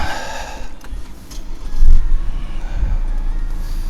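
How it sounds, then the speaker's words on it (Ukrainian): A 2021 Opel Insignia 2.0 diesel with automatic gearbox starts up: a couple of brief low cranking thumps give way to a loud, close engine rumble that settles into a steady run, with no talking. "Автомобіль запускається чудово, як на холодну, так і на гарячу."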